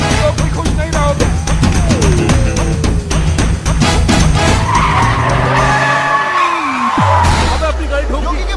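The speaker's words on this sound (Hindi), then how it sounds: "अबे अपनी गाड़ी ठोक दी।" A car skids with loud, long tyre squeals and engine roar, then crashes with a sharp impact near the end. The scene is from the comedy film Housefull 5.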